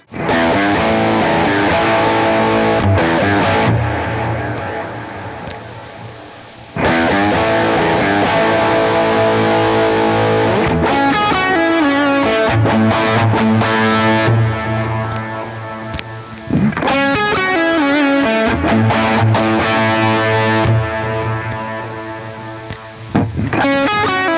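Electric guitar through a JET Pedals Lamb Overdrive pedal playing chords and riffs with a gritty, saturated tone, loud and continuous with brief pauses between phrases.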